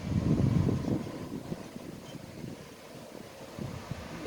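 A cool outdoor breeze on a sunless day blows across the microphone in a continuous low, buffeting rush, strongest at first and then easing to a steady whoosh with no one talking.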